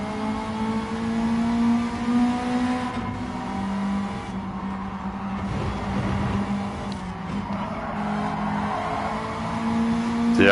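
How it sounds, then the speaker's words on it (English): Racing video game car at sustained high revs with a droning engine tone and tires squealing and skidding through corners, loud and continuous with no talk. "every time your tires start making noise"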